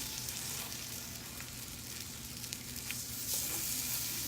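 Food sizzles in a Lodge frying pan as pieces are flipped, a steady bright frying crackle with a few louder pops and spatters as they turn over.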